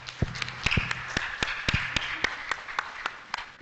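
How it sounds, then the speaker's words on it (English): Seminar audience clapping for an introduced speaker, a fairly sparse, moderately distant patter of individual claps continuing steadily without voices. "please give a warm applause for Dr. Iswandi, Magister Pharmacy"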